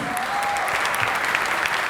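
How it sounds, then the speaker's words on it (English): Enthusiastic applause from a large audience at an awards ceremony, dense steady clapping throughout with a few whoops rising above it. "please a big round of applause for Anil Kapoor."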